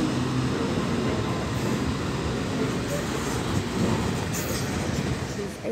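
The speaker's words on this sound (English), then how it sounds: "Leading loco NR101 and second locomotive NR89." A train led by locomotives NR101 and NR89 rumbles past close by, a dense continuous roar of wheels and engines holding steady for the whole stretch, with someone talking over it.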